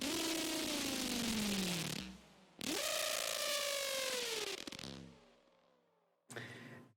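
Broken Screech preset from the Fragment Audio Doomsday pack for Serum, a raw distorted synth lead with gliding pitch, heard as several loud bursts broken by abrupt cuts and stutters, ending with a short final stab.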